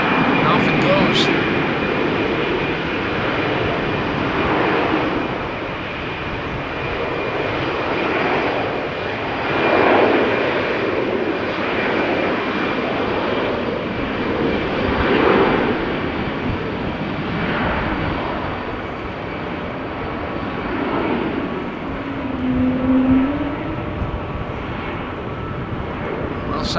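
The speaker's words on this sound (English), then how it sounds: "Sounds emanating from that beautiful A220" Airbus A220 airliner taking off at a rainy Amsterdam Schiphol, with a sustained broad engine roar that swells and fades slightly over nearly half a minute, while a voice talks over it.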